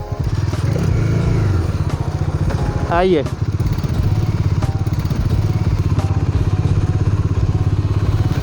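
A 2020 BS6 Bajaj Dominar 400 motorcycle on an on-road test ride, its engine droning loud and close with a steady throb and a brief rising rev in the middle, while someone talks over it.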